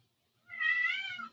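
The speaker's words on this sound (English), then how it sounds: "sorry, that's my cat." A house cat lets out a single drawn-out meow, close and fairly clear, after a moment of near silence during an online talk.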